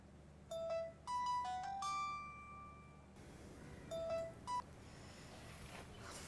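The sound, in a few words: telephone call being dialed and ringing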